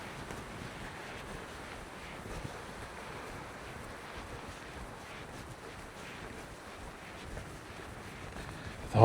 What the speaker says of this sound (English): with all the wind